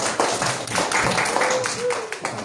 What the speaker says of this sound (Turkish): Gelin bana sana alkışlayalım.